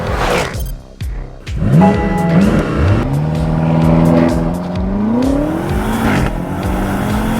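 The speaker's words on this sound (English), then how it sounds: "That V8 just hauls, unbelievable." A loud V8 sports car, a 2019 Mercedes-AMG GT 63 S, accelerates hard, its engine note climbing through the revs, then easing off and building again.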